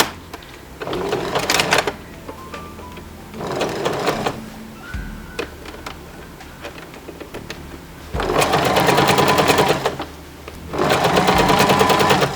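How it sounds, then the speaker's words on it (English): A sewing machine runs a zigzag stitch around the frayed knee of a pair of jeans during a darning repair, in four loud bursts of steady rapid stitching separated by quiet pauses. "I've fed it into my machine, and I'll now put this onto a zigzag"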